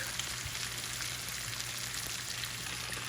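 Sausage with bell pepper and onions frying in a pan gives a steady, close sizzle and crackle that holds at an even level throughout, with no talking.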